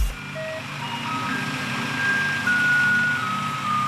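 A singing recycling truck in Kaohsiung, Taiwan, plays a simple electronic melody of steady tones over a continuous engine and street rumble, loud and unbroken, with no voices.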